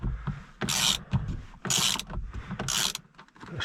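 Three sharp ratcheting bursts, close and evenly spaced, as a ratchet loosens the wheel nuts on a Peugeot 306 HDI, with quieter clicking and handling sounds between them.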